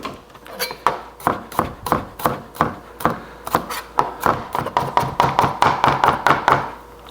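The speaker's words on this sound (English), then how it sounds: "just give that a nice chop, really good chop down" A knife chops onion on a cutting board in quick, rhythmic knocks, close and crisp, speeding up into a rapid steady patter toward the end.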